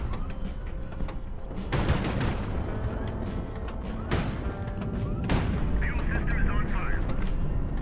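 An artillery barrage in the naval combat game Highfleet, fired against a Paladin ship, sends several heavy booms, some spaced a few seconds apart, over a dense, continuous rumbling battle soundscape.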